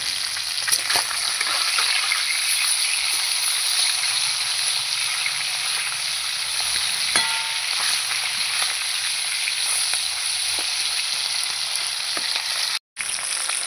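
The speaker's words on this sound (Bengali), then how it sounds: "তেল দিয়ে মাছের মাথাটা ভেজে নেব" A katla fish head fries in hot oil with a loud, steady sizzle that runs almost unbroken throughout, with a few faint clicks and a brief dropout near the end.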